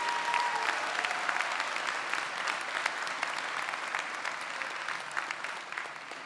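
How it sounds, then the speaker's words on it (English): An audience at a college commencement in a large civic center breaks into sustained, dense applause, steady and loud from start to finish, with faint voices mixed in. "Let's give those retiring faculty and staff another round of applause."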